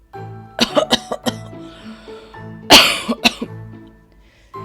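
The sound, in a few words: old woman coughing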